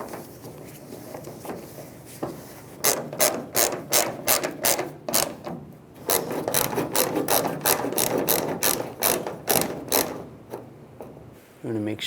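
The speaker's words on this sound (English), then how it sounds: "we'll tighten these bolts down." Rapid bursts of ratchet clicking while bolts are tightened on the fuel filler neck of a 1999-2006 Chevrolet Silverado, several quick runs of close, crisp clicks with short pauses between them, plus light handling noise.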